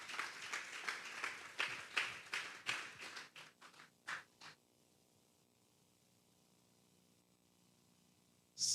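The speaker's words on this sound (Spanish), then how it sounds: "Vamos a darle un fuerte aplauso pues al Señor." A congregation at a Sunday afternoon church service claps in a scattered, uneven burst that thins out and stops after about four seconds, leaving near silence with one sharp click at the end.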